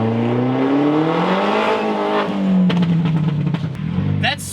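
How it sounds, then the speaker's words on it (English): A car spinning slick tires, the engine revving hard with a rising, shifting tone and rough crackling bursts, loud and close with no speech. "That's spinning slicks."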